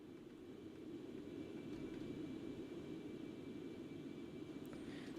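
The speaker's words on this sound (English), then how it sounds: "let's pile on some aircraft sounds" Concorde engines in the X-Plane 11 flight simulator, a steady low roar and broadband rush holding constant throughout, with a faint thin tone above and a small click near the end.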